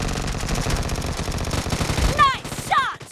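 Gunfire in the mobile battle royale game PUBG Mobile, with rapid automatic bursts crackling densely and loudly throughout, ending in a couple of sharp whistling, chirping tones near the close.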